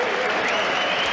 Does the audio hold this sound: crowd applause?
yes